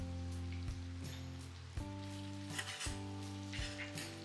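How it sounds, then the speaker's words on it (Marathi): Onion with homemade ginger-garlic paste, coriander and chicken frying in a pan for a Maharashtrian chicken alni rice dish, with a steady close sizzle, soft stirring scrapes and a constant low hum underneath. "आता हे मिश्रण आपण आपला जो कांदा आहे तो हलकासा गुलाबी होईपर्यंत त्याला आपण परतून घेऊया."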